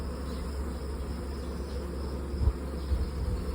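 A dense, continuous buzzing hum of bees from a captured wild swarm inside a hive, heard up close and steady throughout, with a couple of soft bumps near the end.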